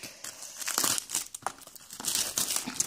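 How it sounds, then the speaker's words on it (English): Stiff plastic wrap on a Pokémon TCG Fates Collide booster box is torn and peeled open, giving close, loud crinkling and crackling bursts in an irregular rhythm with brief pauses, no voices. "So let's open the box up. And this plastic is tougher than usual."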